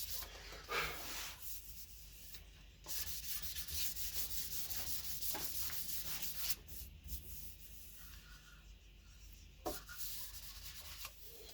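Steady dry rubbing of a cork sanding block on wood, continuous back-and-forth strokes with brief pauses, close and fairly quiet, no talking.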